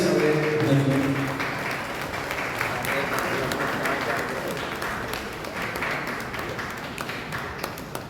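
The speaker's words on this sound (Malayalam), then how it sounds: "നമുക്ക് കൈയടിച്ച് അവരെ നൽകും." An audience at a state annual conference of an anti-liquor committee applauds an award-winning diocese, a dense sustained clapping that starts loud and slowly thins out, with a voice speaking briefly at the start.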